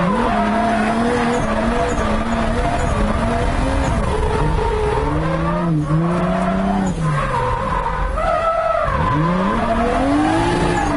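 A big-turbo 2JZ-swapped 240SX drift car roars past close and loud, its engine note rising and falling while the tires skid and squeal continuously.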